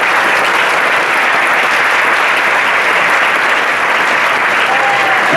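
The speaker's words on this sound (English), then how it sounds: "So would you give a big round of applause for the jazz band for these great big huge trophies?" Dense, sustained applause from a high school band concert audience honoring the jazz band, with many hands clapping together in a steady, loud wash that holds at full strength throughout.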